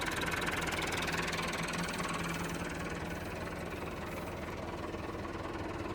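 A tractor engine idles with a steady, continuous low rumble and slight knocking vibration, close and unchanging throughout, with no talk.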